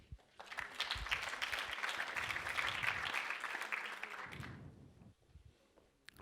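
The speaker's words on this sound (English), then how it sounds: "Can I have an applause for Jeroen van Swieten?" A keynote audience at a rooftop-themed knowledge day applauds a speaker, steady clapping from a crowd sustained for several seconds, then fading as a voice begins.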